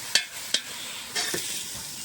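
Leafy vegetable greens stirred in a covered pan after the lid is lifted, with a few sharp metallic clicks and scrapes over a steady soft sizzle, close and moderately quiet.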